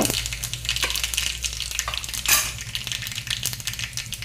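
Mustard seeds, cumin and asafoetida sizzle in hot oil for a tempering, a steady close crackle with scattered pops and one louder burst partway through.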